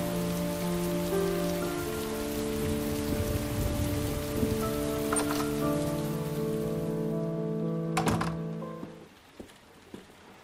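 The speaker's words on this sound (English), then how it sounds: "It's raining." Steady rain patters on surfaces in the game Heavy Rain, with sustained musical tones layered over it and a sharp thump near the end before the sound fades away.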